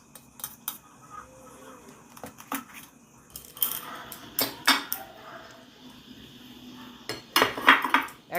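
Chopped capsicum pieces dropped into a bowl in a home kitchen, a string of light clinks and taps from utensil and dish, scattered and close, with no talk.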